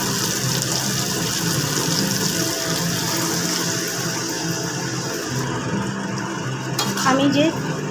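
Pre-boiled chickpeas and their cooking water poured into hot spiced oil in a pan, giving a steady sizzle and clatter of cookware, close and fairly loud, with a brief splashy burst near the end.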